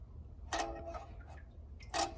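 A worn belt tensioner bearing on a running rat rod engine ticks sharply, with two distinct clicks about a second and a half apart over a low, steady engine rumble.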